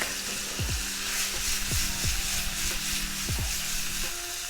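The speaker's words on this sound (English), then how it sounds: "you're keeping it on high heat and you're kind of waiting until it browns" Steak pre-seasoned with salt, pepper, cumin and garlic sears in a hot pan on high heat for lomo saltado, giving a loud, steady close-up sizzle with a few low knocks and scrapes.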